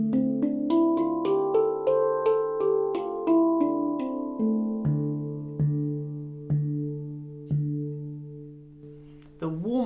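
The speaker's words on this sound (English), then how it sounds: "Let's compare that with the stainless instrument." A stainless steel handpan is struck note by note in a slow descending run, each tone ringing with long sustain and overlapping decays, close and clear with no voices.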